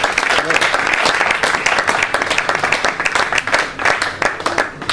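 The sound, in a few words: congregation applauding and cheering in church service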